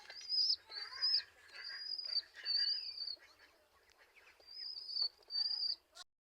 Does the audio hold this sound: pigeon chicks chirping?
yes